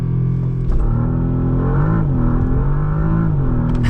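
A Bentley Continental GT with an 8-speed dual-clutch transmission launches hard, its engine roaring loud and close as the pitch climbs, drops at a gear change, and climbs again.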